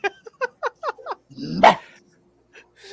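A dog barks in a quick run of six short yips, then gives one louder, rougher bark with a growl, followed by softer whimpers. The sounds are close and clear.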